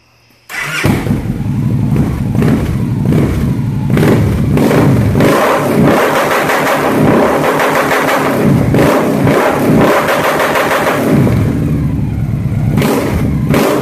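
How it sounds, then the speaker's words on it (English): A 2014 Victory Vision Tour motorcycle fitted with Freedom Performance 4-inch race dual exhaust starts up and rumbles loudly up close, then revs repeatedly in deep rising and falling surges. "this is what it's going to sound like with the Freedom Performance 4-inch dual race."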